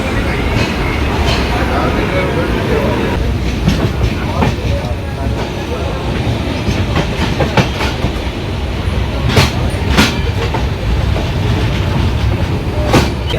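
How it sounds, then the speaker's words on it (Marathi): Netravati Express train pulling into a station in the rain, a loud continuous rumble with rhythmic clickety-clack of wheels and sharp metallic clanks, heard from on board, with people talking faintly. "गाडी बघा दातुलीला आली आहे"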